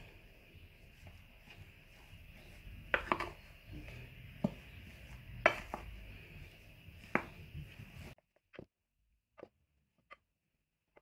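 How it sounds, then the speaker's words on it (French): Shaving foam and glue being stirred together into slime, giving soft wet squelches with several sharper clicks and taps of the utensil, close and fairly quiet, ending in near silence broken by a few isolated ticks. "je vais essayer de bien mélanger la mousse à raser avec la colle"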